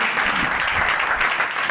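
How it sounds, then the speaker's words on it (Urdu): A church congregation at a Pentecost service claps loudly in sustained, dense applause, many hands together in a continuous patter without a break. "زوردار تالیاں خدا کے جلال کے لیے بجائیں گے"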